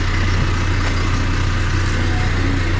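A car engine idles steadily at close range, a constant low rumble with a hum that holds level throughout, no speech over it.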